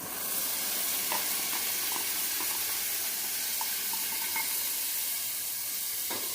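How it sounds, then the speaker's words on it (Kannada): Tomato puree frying for street-style pav bhaji, a steady loud sizzle running unbroken throughout with faint scattered pops and stirring clinks, no voices. "ಚೆನ್ನಾಗಿ ಇದನ್ನು ಕೂಡ ಫ್ರೈ ಮಾಡಬೇಕು"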